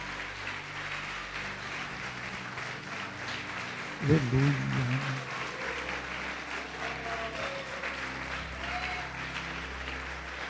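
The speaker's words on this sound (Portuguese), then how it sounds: "Vamos aplaudir o Senhor Jesus" A church congregation applauds the Lord at an evangelical Lord's Supper service, with steady sustained clapping throughout. A preacher's voice rises briefly in the middle.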